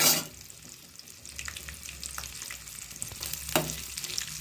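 Soybean chunks fry in a pan over a medium flame for a veg chow, giving a steady close sizzle with a few sharper crackles and a clatter near the end, and no voices.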